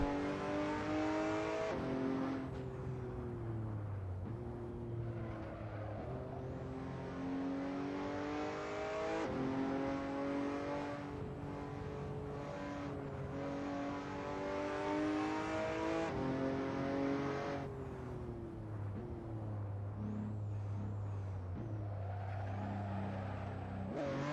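Race car engine in a 1966 Le Mans racing simulator, likely a Ford GT, revving hard and climbing through the gears with repeated upshift drops, loud and continuous close to the listener.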